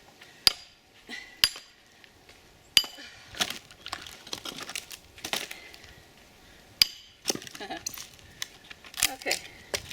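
Sharp metallic strikes of a sledgehammer splitting logs outdoors, about a dozen irregular cracks and clinks, some loud and close, with a person talking in between.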